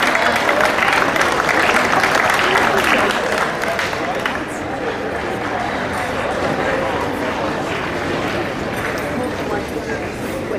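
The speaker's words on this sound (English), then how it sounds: "give a warm round of applause and appreciation to both combatants" Audience at a Masters Games novice boxing bout applauds both fighters with dense, steady clapping and a hum of crowd murmur, tapering slightly after the first few seconds but continuing throughout.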